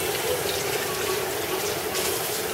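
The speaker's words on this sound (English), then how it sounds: "And she's going to go ahead and rinse those off." Steady rush of tap water pouring over pinto beans in a strainer, continuous and close throughout.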